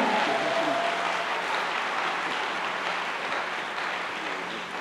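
A church congregation applauds loudly and steadily, a dense, continuous roar of many clapping hands filling the room and fading only slightly toward the end.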